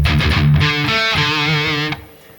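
Distorted metal electric guitar riff, a chugging low passage that opens into sustained vibrato notes before cutting off; loud, close and alone, with no talking.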